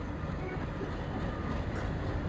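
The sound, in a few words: train departing a station in Trainz Simulator video game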